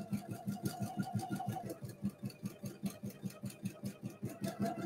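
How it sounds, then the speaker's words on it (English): A sewing machine stitches a rolled edge, an heirloom technique, with a fast, even chatter of needle strokes that runs steadily throughout, close and fairly quiet, with no talking. "this is, you know, on a sewing machine."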